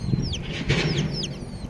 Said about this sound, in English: If it's a chicken, it's a mangy looking chicken.